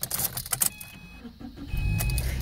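A car's engine cranks and catches after a few clicks and rustles, settling into a low, steady idle close by.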